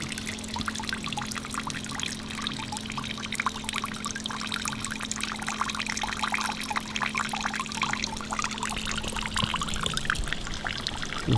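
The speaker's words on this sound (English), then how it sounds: "to create this dripping effect" Water trickles and drips steadily from a leaf set between two flowers as a small dam at a Kyoto temple, a continuous close wash of liquid with no voices.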